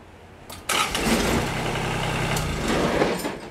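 A Kubota BX23D tractor's diesel engine cranks and catches abruptly after a new start relay is wired in, then settles into a steady, close, loud idle.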